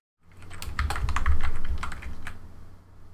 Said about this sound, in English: and then I'll just type Linda.